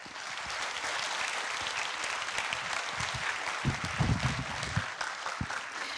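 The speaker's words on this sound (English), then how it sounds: "Please give it a round of applause to our partners." Audience applause at a chemistry lecture event hosted with Nobel laureate partners, a steady, full round of crowd clapping lasting about six seconds with a few louder individual claps near the end.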